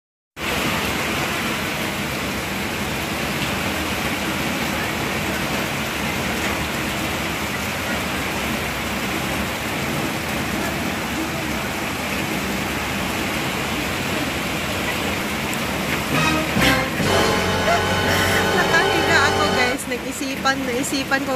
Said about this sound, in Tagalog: Tapos umuulan. Sarap lang.